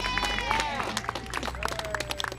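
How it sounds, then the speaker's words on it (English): A crowd at a rally to save the Venice post office claps in scattered, uneven bursts, fairly faint and distant, with voices and a whistling tone mixed in. "Give yourselves a round of applause"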